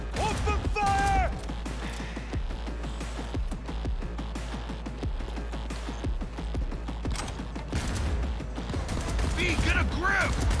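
Gunfire in the video game Cyberpunk 2077 during a heist, a busy fusillade of overlapping shots and mechanical clatter over a constant low rumble, with voices shouting in places.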